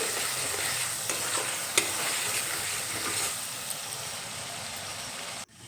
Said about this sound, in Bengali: চিনি দিয়ে আবারও একটু নেড়ে চেড়ে নিলাম।